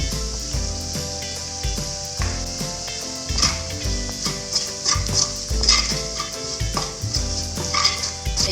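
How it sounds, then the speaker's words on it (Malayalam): Boiled eggs stirred into a sizzling masala of turmeric, chili powder and garam masala in a frying pan, with continuous frying hiss and rhythmic spoon scrapes and clinks, close and moderately loud. "വെച്ചിരിക്കുന്ന മുട്ടയും ചേർത്ത് ഇളക്കി കൊടുക്കാം."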